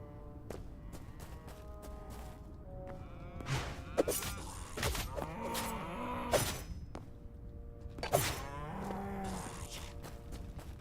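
Cows in the video game Hytale moo several times at mid distance, drawn-out lowing calls rising and falling over a steady background ambience, with the loudest calls near the middle and end.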